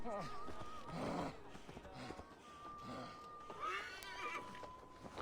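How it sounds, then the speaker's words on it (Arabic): A horse in Assassin's Creed Valhalla lets out a loud whinny with fluttering, pitched tones, a second neigh following a few seconds later over faint game ambience. "طيب تبغى نجيب الحصان؟"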